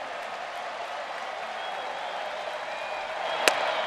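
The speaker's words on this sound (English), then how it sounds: "Crowd on its feet as they want to see the Braves finish off New York in grand fashion" Baseball stadium crowd cheering for the Atlanta Braves against New York, a broad continuous roar of voices with a single sharp crack near the end, steady and fairly loud.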